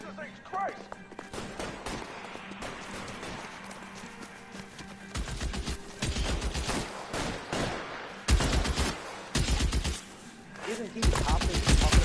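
Gunfire in the video game L.A. Noire, with scattered shots early and then dense, loud bursts of rapid fire in clusters near the end. Voices speak under the shooting.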